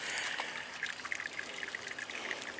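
Sparge water draining through the grain during a home brew, a faint, steady trickle and dribble of liquid heard close up and alone.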